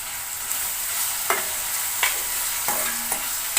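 Tomato and green chili cook in oil in a pan, a constant bright sizzle with a few distinct spoon strokes or taps against the pan, near and steady, no speech.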